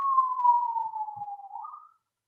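A siren heard outside a house, a single faint wailing tone that slowly falls in pitch, briefly rises, then cuts out, sounding distant with no other sounds around it.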